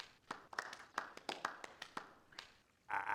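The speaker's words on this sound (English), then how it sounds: "So I thought we could begin with a round of applause," In the video game Beacon Pines, a small group claps, giving a short scattered round of applause with about a dozen distinct hand claps before a louder burst at the end.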